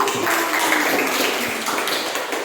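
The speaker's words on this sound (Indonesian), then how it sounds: "Tepuk tangan." Students in a classroom applaud together, a steady wash of clapping that holds loud and even throughout without any talk over it.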